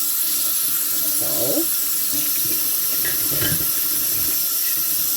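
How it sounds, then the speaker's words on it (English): Tap water runs steadily into a sink while canning jars are washed, a continuous splashing hiss with a few clinks and sloshes as the jars are handled. "So just wash in the jars twice"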